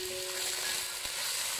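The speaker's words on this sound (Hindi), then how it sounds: "देखिए जी, टमाटरों के साथ हमारा प्याज थोड़ा सा भून रहा है।" Onions and tomatoes sauté in a pan with a continuous, close frying sizzle and a faint brief scrape of stirring, with no talking.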